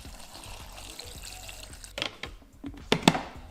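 Water pours into a blender holding peaches and raspberries for a summer drink, a soft running trickle at first, then sharper splashing bursts and knocks near the end, close and fairly quiet.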